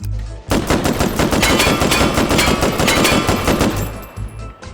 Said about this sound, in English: And the delicious, delicious gunfire sound.